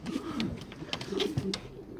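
Breeding pigeons on a balcony give low, soft cooing calls in several short bursts, close by, with small clicks and rustles around them.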